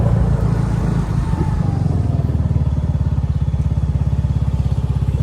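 A motorcycle engine idles and putters close by, a steady rapid thumping pulse that runs on without pause.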